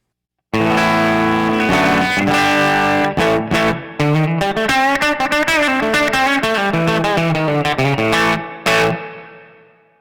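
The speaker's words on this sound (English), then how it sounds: "that's the plate setting on the reverb" Distorted electric guitar plays sustained chords and melodic lines, drenched in a bright, lush plate reverb that rings out after the final notes.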